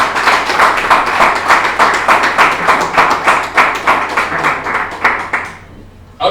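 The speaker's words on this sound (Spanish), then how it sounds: "dale esas palmas al Señor," A church congregation claps in steady unison, evenly spaced rhythmic claps close by and fairly loud, continuing for several seconds before stopping abruptly.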